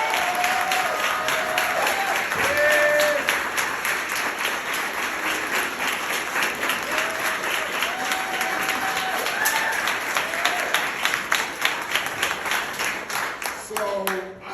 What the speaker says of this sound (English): Give a round of applause for an outreach and engagement team.